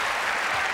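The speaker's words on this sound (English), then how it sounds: "You can hear this crowd." Tennis crowd at the US Open 2001 semifinal between Capriati and Venus Williams applauding, a dense steady wash of clapping from a large stadium audience.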